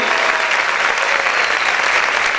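Steady, vigorous applause from a church congregation, a thick, continuous clatter of many hands close by, unbroken and even in loudness with no speech rising above it.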